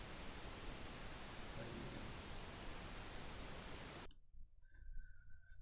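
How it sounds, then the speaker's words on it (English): Loud, steady hiss of pink noise for about four seconds, then it cuts off abruptly, leaving quiet faint sounds and a soft tone. "pink noise"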